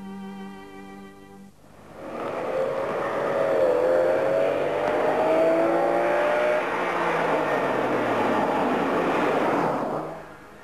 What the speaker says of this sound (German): Ob nun Tempo 300 auf der Autostrada oder wie hier mit Nachdruck gefahren auf Nebenstraßen, Ferraris 456 erweist sich als echter Sportwagen.